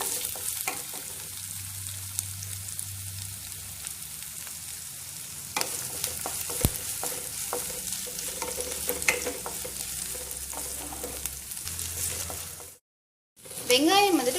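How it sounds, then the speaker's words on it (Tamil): Onions sautéing in a pan for a snake gourd fry, a steady soft sizzle with occasional stirring scrapes running throughout, briefly cutting out near the end before resuming. "வெங்காயம் வந்துட்டு கொஞ்சம் பொன்னிறமா ஆகிற வரைக்கும் நல்லா வதக்கிக்கலாம்"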